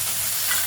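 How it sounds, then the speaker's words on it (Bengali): Potato and eggplant pieces frying in hot oil in a pan, a steady close sizzle with faint stirring, heard alone for under a second. "প্রথমে আলু আর বেগুনটাকে এভাবে ভেজে নিচ্ছি।"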